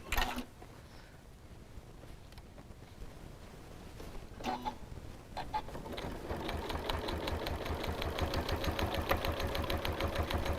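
A home sewing machine stitches binding onto a scrappy quilted potholder, a fast, even mechanical chatter that starts after a few soft clicks and runs steadily to the end, close and moderately quiet.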